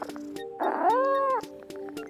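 A cat meows at an ASPCA adoption center, one drawn-out, rising and falling call lasting under a second, close and clear, with a faint tonal background hum around it.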